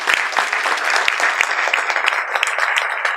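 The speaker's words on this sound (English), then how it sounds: "So please give a loud round of applause." Audience at an award ceremony breaks into steady, sustained applause, a dense wash of many hands clapping at close range with a few sharper claps standing out, and no voices over it.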